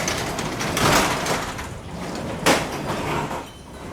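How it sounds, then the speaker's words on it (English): A residential garage door slides open with a steady broadband rolling rush, swelling twice in louder surges, close by with no talking. "Let's start by opening the garage door."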